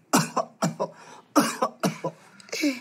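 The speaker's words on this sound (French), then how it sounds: "Il tousse." A person coughs repeatedly in harsh, wet bursts, about five fits in quick succession, close and fairly loud, with no talking.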